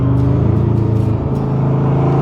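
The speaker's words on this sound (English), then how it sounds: "can hear the side exit exhaust. Other cars don't give you that, right?" Side exit exhaust on a 1965 Chevrolet Corvette roadster rumbles up close under a light throttle tip-in, a deep steady burble that shifts briefly as the revs change.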